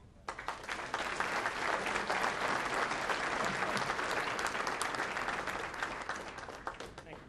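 A conference audience at a Zions Bank trade and business conference applauds to welcome economist Dan North, with dense, steady clapping from many hands that fades slightly near the end.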